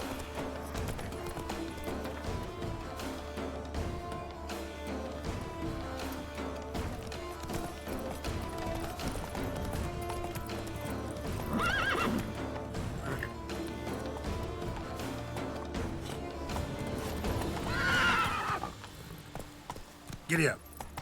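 A horse gallops in The Witcher 3 with rhythmic hoofbeats under a busy game soundtrack and ambience, a whinny rising near the end, while a person talks over it.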